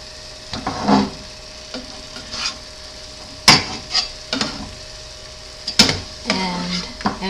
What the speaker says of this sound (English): so it's been in for about 8 minutes now, and I'm doing another flip